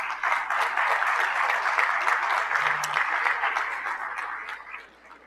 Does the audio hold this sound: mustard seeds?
no